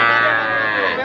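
A bull calf moos loudly and close at a busy village cattle market, one long sustained low bellow filling the moment.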